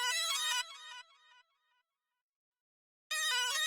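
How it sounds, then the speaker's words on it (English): A bright synth tone from the Purity plugin resembling a Nokia phone notification plays a quick chiming melodic phrase that fades out, falls silent, then starts again. "this little thing in Purity. It sounds like a phone notification for like a Nokia"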